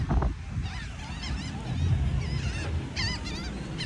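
A flock of geese honks noisily close by at a waterside spot where birds are being fed, overlapping squawks and calls coming in bursts over wind and low background rumble.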